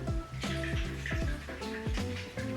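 Tap water running to wet a creamy vegan milk cleanser, a steady close splashing flow with gurgling pulses and no talk.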